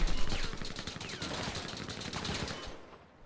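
Rapid automatic gunfire in a shooter video game, dense repeated shots firing continuously before cutting off near the end, with no talking.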